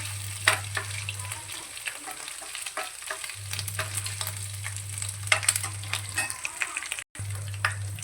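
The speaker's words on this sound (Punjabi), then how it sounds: "ਹਰੀ ਮਿਰਚ ਨੂੰ ਆਪਾਂ ਬਸ ਸਿੱਧਾ ਇੱਕ ਕੱਟ ਲਗਾਇਆ ਤੇ ਇਹਨੂੰ ਵੀ ਆਪਾਂ ਭੁੰਨ ਲਾਂਗੇ ਤੇਲ ਦੇ ਵਿੱਚ" Slit green chillies frying in hot oil for a soybean chunk curry, a close crackling sizzle with scattered pops and occasional stirring scrapes, steady throughout with a low hum underneath that cuts out briefly.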